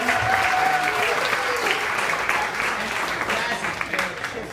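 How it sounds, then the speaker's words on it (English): Wedding evening crowd breaks into a dense, sustained round of applause, loud and close, slowly tapering off toward the end with some voices mixed in. "I think everyone should give a big round of applause to them."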